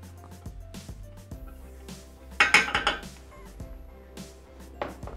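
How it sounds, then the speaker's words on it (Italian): Spatula pressing shallot against the bottom of a Thermomix TM6 mixing bowl, soft scraping with scattered clinks and a short burst of louder metallic rattling in the middle, close-up. "Con la spatola premiamo sul fondo del boccale lo scalogno"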